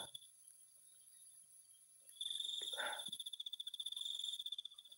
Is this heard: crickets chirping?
yes